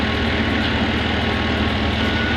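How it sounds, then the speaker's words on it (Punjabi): A steady, loud diesel engine of a tractor hauling straw rumbles throughout with a low, even chugging, close by and continuous, no voices. "ਲੋ ਜੀ ਆ ਟਰੈਕਟਰ ਤੂੜੀ ਲਾ ਕੇ ਆ ਗਿਆ"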